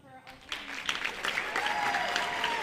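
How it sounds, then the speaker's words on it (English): Applause at a school board business meeting swells up after a brief voice, building into a dense, steady clatter of many hands that holds to the end. "Let a round of applause for our"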